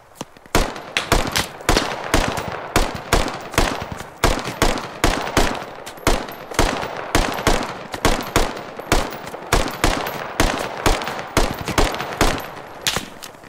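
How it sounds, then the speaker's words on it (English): Sustained gunfire in the military shooter game Squad, rapid rhythmic bursts of automatic rifle shots repeating steadily for many seconds, loud and close with no talking. "I'm taking heavy fire from north."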